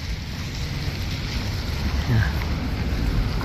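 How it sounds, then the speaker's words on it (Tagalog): Wind blowing outdoors on a cold day in Canada, a steady broadband rush with a brief gust, while someone speaks briefly. "Kahit may hangin pa yan."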